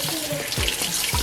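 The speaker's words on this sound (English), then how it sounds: "So washing, I like to wash mine under running water." Tap water runs over smoked Kuta fish as it is washed in a sink, a close, continuous splashing stream with small gurgles, brief and alone with no voices.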